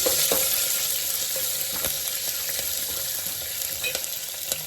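Green chillies frying in a pan of hot oil with cardamom, shahjeera and peppercorns for Hyderabadi bagara rice, a steady bright sizzle with faint intermittent clinks of stirring, close and alone.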